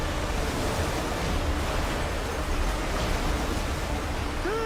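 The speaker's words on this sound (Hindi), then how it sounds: "पानी आ गया" Floodwater rushing through a flooded mine in a film scene, a loud, steady broadband roar like surf that runs unbroken through the whole stretch.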